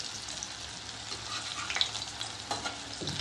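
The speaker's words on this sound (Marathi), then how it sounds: "ह्या कोथिंबीर वड्या तेलामध्ये टाकायच्या आणि दोन्ही बाजूने छान अशा खरपूस तळून घ्यायच्या" Kothimbir vadi frying in hot oil over medium to high flame gives a soft, steady sizzle with light crackles, close but fairly quiet.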